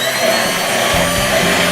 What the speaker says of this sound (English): Now you're going to blend this.